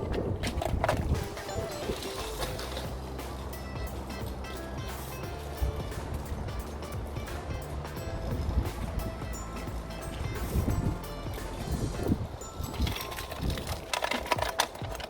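A Xootr Street kick scooter with large wheels rolls over pavement, giving a busy rattling, clattering rumble that surges and fades as it goes, with faint voices in the background.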